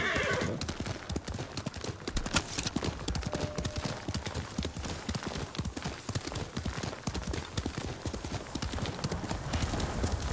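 Horse hooves clip-clop in a steady, rapid rhythm in Ghost of Tsushima, with a neigh or whinny near the start, all at a fairly quiet level.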